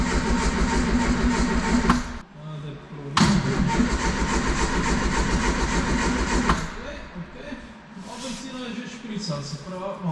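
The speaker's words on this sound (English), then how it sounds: "We just need to keep on cranking it." A classic UK car being cranked, with the starter whirring in long rhythmic bursts that stop and restart without the engine catching, loud and close, while people talk between attempts.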